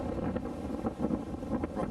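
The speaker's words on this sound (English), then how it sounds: "The wind's pretty gusty out here" Gusty wind outdoors on an open hillside during a hunt, buffeting the microphone in low rumbling surges that rise and fall in waves, no voices.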